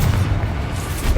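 A Bombarda spell explosion in the video game Hogwarts Legacy, heard as a short, heavy low boom with a rumbling body that lasts about a second.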